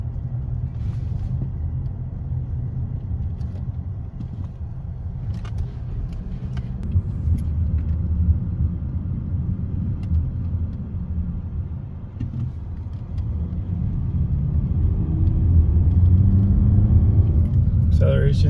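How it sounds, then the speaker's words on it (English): A 2021 Hyundai Sonata SE on a test drive after an ignition coil replacement, giving a steady low engine and road rumble heard from inside the cabin that swells slightly toward the end, with faint clicks over it. "now we're going to take a test drive, see if we have fixed our herky-jerky transmission"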